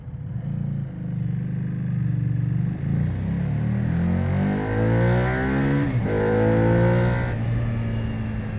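A 2024 Buell Hammerhead motorcycle engine revving up through rising and falling pitches, a loud, close, throaty roar climbing hard then easing, with no talking over it.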